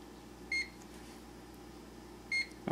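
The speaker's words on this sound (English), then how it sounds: "Let's get microwaving." A microwave oven humming steadily at low level while cooking corn on the cob on power level 9, with two short electronic beeps about two seconds apart and a click at the end.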